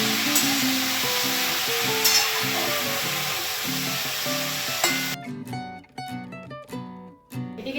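Vegetables with turmeric frying in a covered pan give a loud, steady sizzle and hiss that drops away after about five seconds, leaving lighter crackles and clinks.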